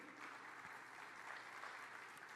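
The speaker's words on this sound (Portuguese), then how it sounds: "Um aplauso ao Espírito Santo" Applause from a church congregation during a sermon, a faint, steady wash of many hands clapping at a distance with no clear voices.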